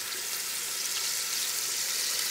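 Meat frying in oil with cardamom and bay leaves gives off a steady, hissing sizzle, close and even, with faint stirring under it and no talk.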